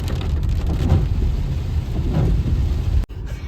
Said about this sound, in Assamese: এতিয়া বৰষুণে দিছে।